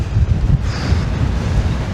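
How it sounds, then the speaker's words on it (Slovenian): Strong wind buffets the microphone on an open grassy mountain ridge above 2000 m in the Prenj range, a steady low roar with gusts and no speech. "Tale veter za razliko od jutri prav paše."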